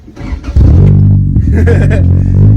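A Toyota Tacoma with a touchy clutch, its engine coughing and catching, then revving loudly and holding a rough close drone that wavers as it struggles near stalling.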